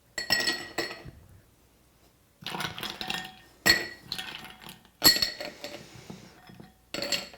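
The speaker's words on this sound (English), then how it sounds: "So let's take our ice and put it in the glass." Ice cubes dropped into a glass while making iced matcha, several bursts of bright clinking and rattling close by, separated by short pauses.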